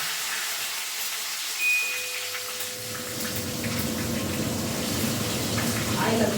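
Field beans dropped into hot oil sizzle and splatter in a steady hiss that swells and continues under someone talking nearby.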